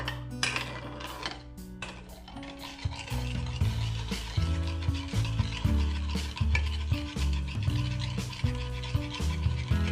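Shrimp and glass noodles in a pan are stirred after ground pepper goes in, a utensil scraping and clinking steadily against the pan over a soft sizzle, close and continuous, with a low tonal hum underneath.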